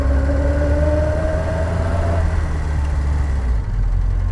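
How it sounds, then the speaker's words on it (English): Bond Bug's 850cc two-cylinder engine running steadily with a low, rough drone and a brief rising tone early on, steady and continuous with no voices. "It has an 850cc, I believe it's a two-cylinder engine, which makes an absolute racket"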